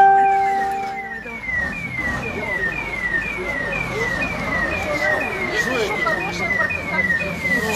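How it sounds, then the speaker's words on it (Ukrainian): National Guard vehicles arrive at the Lukyanivska pretrial detention centre with sirens wailing in rapid, repeated rising sweeps. Loud engine and traffic rumble fill the scene while people talk nearby. "Це їде Нацгвардія на підкріплення в СІЗО."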